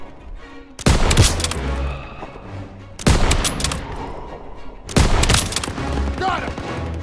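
Bursts of gunfire in the Call of Duty World War 2 video game, three loud clusters of rapid shots and explosions a couple of seconds apart, with soldiers shouting among the battle noise.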